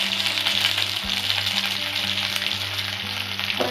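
Chili powder and ginger-garlic paste sizzle steadily in hot oil with cumin, a dense crackling hiss close by. Occasional stirring scrapes sound through it, and there is no talking.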